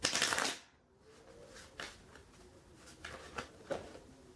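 A deck of playing cards being shuffled during a magic trick, a loud riffle burst at the start followed by softer, scattered card flicks and snaps, close and alone.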